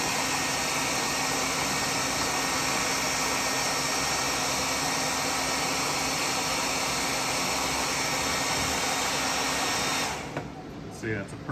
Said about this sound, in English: just hit it with the hair dryer and they'll disappear